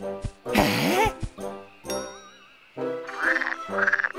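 A cartoon frog croaking in an animated series, several loud close croaks in bursts separated by short pauses, with bright cartoon sound effects between them.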